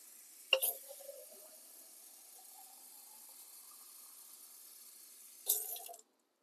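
Water runs steadily into a cooking pot for hamburger soup as a measuring cup is rinsed out, a continuous close hiss framed by sharper clinks and splashes at the start and end, with no talking.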